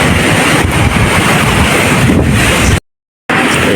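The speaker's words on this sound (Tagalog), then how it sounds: "Lakas ng hangin." Strong typhoon wind and sea waves during Typhoon Crising near a seaside house: loud, roaring wind buffeting the microphone over crashing surf, constant and heavy, with a brief dropout near the end.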